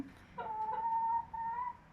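A backyard laying hen, one of a small flock of four kept for eggs in Austria, gives a drawn-out, wavering cluck-call at close range, briefly breaking and then resuming, with no talk over it.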